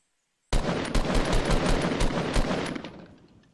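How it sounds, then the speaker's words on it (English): A sudden burst of rapid automatic gunfire in Fortnite, loud and close, rattling for about three seconds before fading out. "Oh, I hear gunshots."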